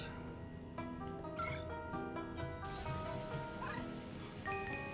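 Polter Pup, the ghost dog from the Luigi's Mansion 3 video game, gives short yipping barks and whimpers over steady game music with chiming tones.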